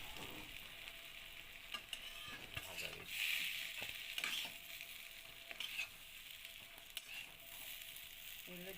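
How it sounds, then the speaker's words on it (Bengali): Pieces of taro fry in oil in a wok, producing a soft steady sizzle with intermittent scraping and clicking from stirring, close and quiet. "তো কচুটা আমার লাল লাল করে ভাজা হয়ে গেছে,"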